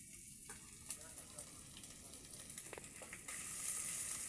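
Grated coconut frying with ginger garlic paste in a pan gives a faint, continuous sizzle with occasional soft crackles and stirring scrapes, swelling slightly louder near the end.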